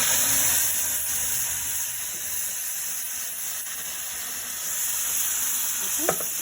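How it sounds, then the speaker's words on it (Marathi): Ground masala paste for a fish curry fries in a pan, a loud, steady close sizzle and hiss throughout, with a short sharp clink just before the end. "आणि वाटण छान फ्राय करून घेऊया"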